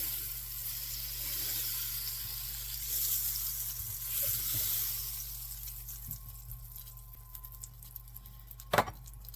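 Butter melting with olive oil in a heated pan gives a steady soft sizzle and hiss, fairly faint and continuous, with a brief sharper clatter near the end.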